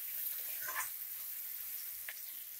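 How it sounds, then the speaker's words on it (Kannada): Tomato pieces frying in oil in a pan, a faint steady sizzle with a couple of brief stirring scrapes, heard alone at a moderate distance. "ಇದೊಂದು 3 ನಿಮಿಷ ಚೆನ್ನಾಗಿ ಫ್ರೈ ಮಾಡ್ಕೊಳ್ಳಿ ಎಣ್ಣೆಯಲ್ಲಿ ಟೊಮೆಟೊನ"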